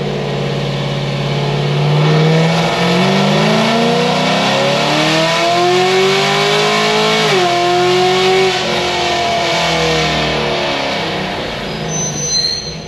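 Turbocharged car on 8 psi boost and 91 octane fuel accelerating hard from a roll, engine note rising steadily, then a brief dip at an automatic upshift around the middle before pulling again, loud and close with no talk.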